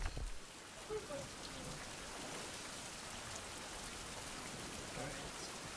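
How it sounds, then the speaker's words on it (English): Steady rain falling outdoors in a wilderness setting, a continuous hiss of drops on surfaces at moderate level, with a little low-level activity near the start. "Oh, it's raining again."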